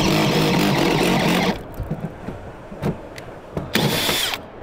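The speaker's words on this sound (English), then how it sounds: "So after we drill that hole, we got to make it bigger." Cobalt step bit drilling through stainless steel, a loud steady whine for about a second and a half, then stopping, followed by scattered clicks and brief bursts of tool noise.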